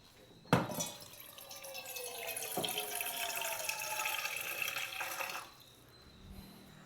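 Hot water poured for coffee in a campervan, a steady liquid pour lasting about five seconds. It starts with a sharp knock, runs close and clear, then stops abruptly into quiet.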